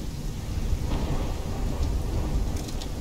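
Heavy rain pours with rumbling thunder in a Call of Duty Black Ops 3 storm scene, a dense, loud and continuous downpour with low booming rolls and no voices.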